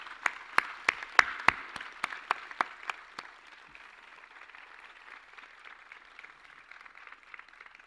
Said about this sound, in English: So if you could give all these people a big round of applause,